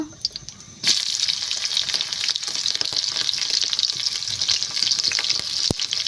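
Cumin and green chillies drop into hot oil with a sudden loud hiss that settles into a dense, steady sizzle. A few clinks of a utensil are heard near the end.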